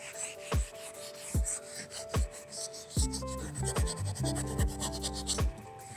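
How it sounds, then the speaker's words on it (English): A sponge scrubs chemical stripper across the surface of vintage furniture, with sharp rhythmic knocks and rubbing strokes, close and fairly quiet, without talk. "Sponges work really nice too because they kind of absorb in the QCS and allows you to sort of scrub"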